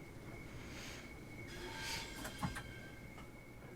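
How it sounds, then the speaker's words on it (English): A Southeastern high speed train in Train Sim World 2, heard as a steady rolling rumble with a faint whine and a few clanks near the middle, moderately quiet and without talk. "Right, train stops, doors open, and turn it all off."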